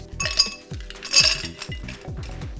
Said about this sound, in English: Add ice to a highball glass.